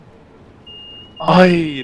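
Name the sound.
emergency brake alarm in Train Sim World 2 video game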